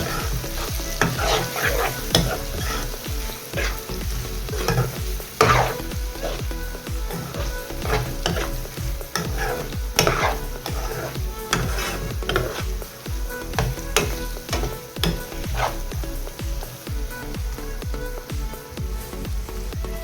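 Boal fish curry stirred with turmeric, mixed spices and red chilli in a hot pan, giving steady scraping spoon strokes over a continuous frying sizzle, close and moderately loud throughout.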